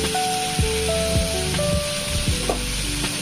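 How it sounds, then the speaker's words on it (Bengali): Ground bean paste hits hot oil and frying spices in a pan, giving a steady loud sizzle with crackling pops and several scraping stirs of a spoon at short intervals. "আমি পুরো শিম বাটাটা তুলে দিয়ে দেবো এর ভেতরে"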